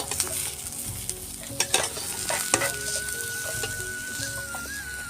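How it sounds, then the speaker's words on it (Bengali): Pointed gourd (potol) fries in hot oil in a village kitchen while being stirred, with a steady sizzle and repeated scrapes and clatters of the spoon against the pan, close, with faint chickens clucking in the background. "আবারও ভালোভাবে নাড়ে চাড়ি পটলটা ভালোভাবে ভেজে নেব।"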